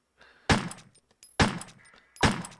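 Three hard impacts from shooting a screen in the 1996 Resident Evil game, each a loud, sharp crack with a brief breaking smash spaced about a second apart, with faint game sounds between hits.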